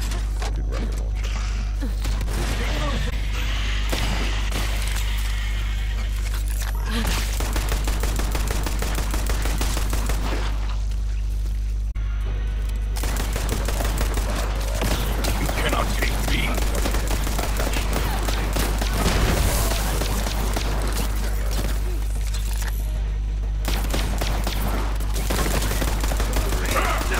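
In Borderlands 3, a rocket launcher and gunfire make rapid bursts of sharp blasts and crackling shots. They are loud and dense over a constant low hum, with short breaks around 7 and 12 seconds.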